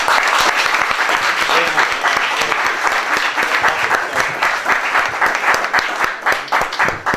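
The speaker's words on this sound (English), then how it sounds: "Round of applause." Dense, sustained audience applause after a science presentation, loud and continuous from start to end with no talking.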